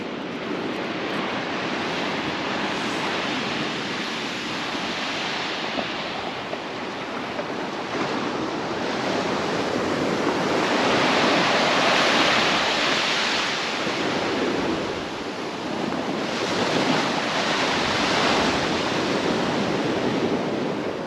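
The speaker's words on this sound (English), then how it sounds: "Let's go listen to the waves for a sec." Steady roar of ocean surf on the beach at Bethany Beach, Delaware, with waves swelling and washing in continuously, mixed with some wind noise and no talking.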